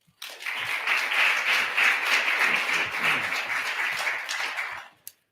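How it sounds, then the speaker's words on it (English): Audience applause for a deputy secretary at an Inauguration Day 2022 ceremony rises quickly, holds as a steady wash of clapping for several seconds, then cuts off, leaving one final clap. "Please join me, warm round of applause to our Deputy Secretary Bates as he comes"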